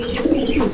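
A pigeon gives a short, close, throaty coo lasting under a second, with no talk over it.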